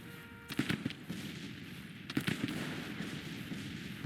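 Artillery fire in Grand Tactician: The Civil War, heard as faint, distant booms, a few scattered reports over a low, steady battlefield rumble.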